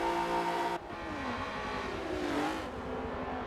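Clio V6 Cup race cars in a racing video game accelerating up a hill at Watkins Glen, engines revving loudly and steadily with rising pitch as they run side by side, one car's note shifting through gears.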